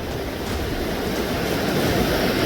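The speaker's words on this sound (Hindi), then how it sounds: "देखिए ऊंचे ऊंचे रैपिड्स यहाँ पर उठ रहे हैं, लहरें उठ रही हैं।" The Ganges in flood at Rishikesh after mountain rains, swollen rapids and waves making a loud, unbroken roar and rush of water with no voices.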